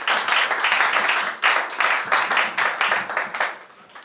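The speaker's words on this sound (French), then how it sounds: "Acclamez encore une fois." An audience at an official platform launch claps in a sustained round of applause, dense and lively in uneven bursts, close and loud, with no talk over it.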